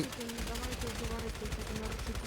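Gunfire in a role-play video game rattles in rapid repeated bursts, fairly faint and continuous, under voices talking.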